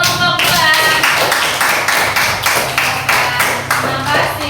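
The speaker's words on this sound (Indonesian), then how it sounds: "Tepuk tangan untuk kelompok 2." Students in an Indonesian classroom clap for a group that has just presented, giving loud, close claps in a brisk, steady unison rhythm with a few sustained tones underneath.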